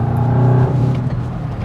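A VW Mk8 GTI with an APR cat-back exhaust drones loudly and close, a steady low throbbing note that holds briefly, then eases slightly.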